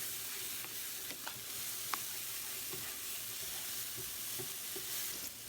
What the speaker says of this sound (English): we're going to let that fry into the oil with the sofrito as well